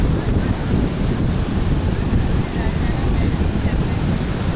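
Ocean surf rolls in at Sea View Beach in Karachi early in the morning, a continuous close wash of waves mixed with heavy wind buffeting on the microphone.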